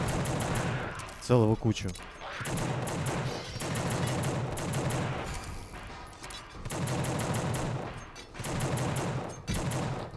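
Gunfire rings out in The Suffering, with repeated bursts of shots in clusters separated by short pauses and a steady rumble of game ambience underneath; someone speaks briefly.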